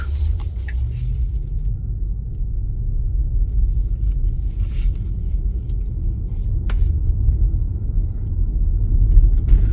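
A car pulls slowly out of a parking spot during a driving test, a low steady engine rumble with road noise that swells slightly near the end, with a few faint clicks and no voices.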